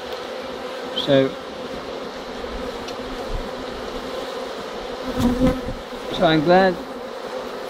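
Honeybees hum steadily around an open beehive during an inspection, a close, continuous drone under the scene, while someone speaks briefly in short bursts.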